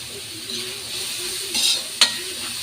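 Tomatoes sizzling and frying in a pan for a mung bean stew, with a steady soft hiss, light stirring and a couple of sharp utensil clinks against the pan.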